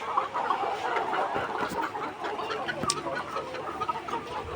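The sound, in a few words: chickens and a rooster clucking on a poultry farm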